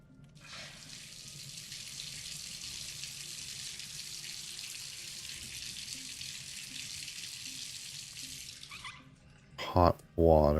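Hot water runs from a tap in the Myst video game, a steady hiss of flowing water that holds for about nine seconds before cutting off, followed by a brief burst of speech.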